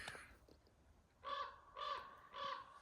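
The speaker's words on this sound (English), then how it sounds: "Once again, the crow agrees with you." A crow cawing near an off-grid treehouse build site, three evenly spaced harsh caws in a row, moderately distant, with no talk over them.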